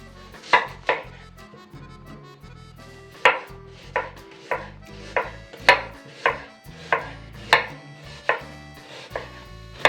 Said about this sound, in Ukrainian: цибулю наріжу півкільцями